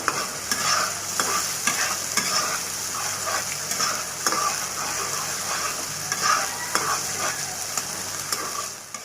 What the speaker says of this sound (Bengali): কম জালের মধ্যে মশলাটা আমি এইভাবে কষাবো।